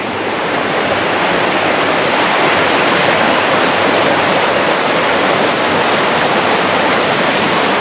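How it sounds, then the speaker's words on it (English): Continuous loud rushing of a glacier melt creek near Spencer Glacier, Alaska, a steady broadband roar nearby, with no other sounds. "I guess you can hear in the background, there's some running water about us"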